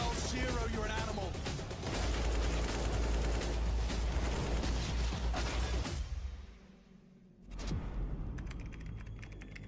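Gunfire in Counter-Strike during a Spirit vs 9z match, with rapid shots and clicks packed under excited commentary and game noise. Play drops briefly toward quiet before resuming.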